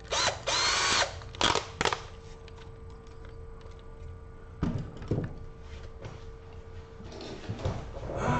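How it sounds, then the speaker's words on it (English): A power drill bores holes into a DIY workbench in short, loud, close bursts, each whining briefly and stopping, with quieter handling clatter and rustling between the runs. "So we're going to drill in basically wherever we can."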